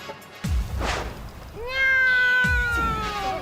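A cartoon cat in a Motu Patlu episode meows twice, close and clear. The first cry is brief, and the second is a longer, drawn-out wail with a rising then sliding pitch.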